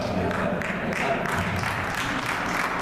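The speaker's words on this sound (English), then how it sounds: "It's okay, you clap for me." Audience applause at a Colorado Black Round Table gathering, a dense steady patter of many hands filling the room, moderately loud, with voices talking underneath.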